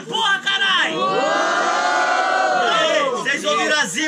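A crowd at a Brazilian student street rap battle in São Paulo roars with cheering, whooping and shouting, a loud, dense wall of voices that swells and holds for several seconds.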